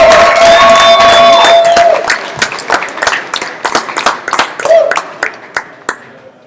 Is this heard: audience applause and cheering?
yes